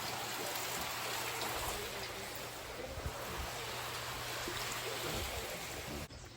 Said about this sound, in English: It's raining a little bit.